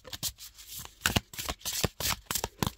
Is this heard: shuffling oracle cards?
yes